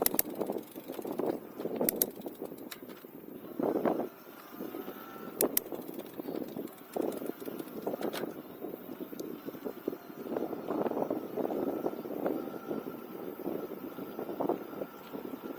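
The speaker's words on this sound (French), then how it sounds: "il y a un petit vent là qui est vraiment le bienvenu" Light wind gusts across a peat bog on the Hornisgrinde, buffeting the microphone in soft uneven puffs with a low rumble, heard alone without talk.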